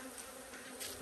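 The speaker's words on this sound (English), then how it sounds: "So currently, the box is full of bees" A hive box packed full of honeybees gives off a steady, even droning hum, low in level and unbroken for a short stretch, with no talking.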